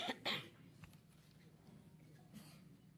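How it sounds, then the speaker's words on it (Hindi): Coughing in a stuffy hall during a political speech event, two quick close coughs at the start followed by quieter room noise and a faint later cough. "क्यों भाई खांसी बहुत आ रही है"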